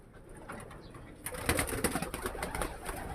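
Inside a racing pigeon loft, a pigeon stirs amid rustling and fluttering that grows louder after about a second and continues as dense close-up activity.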